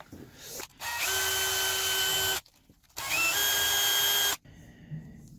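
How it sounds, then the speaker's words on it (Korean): A power drill spinning 120-grit sandpaper to sharpen a pipe cutter blade whirs up twice in long loud bursts, each with a steady rising whine and gritty scraping, separated by a brief pause. "드릴에 물려가지고 먼저 이게 지금 빼빠가 사포가 120 120방이거든요"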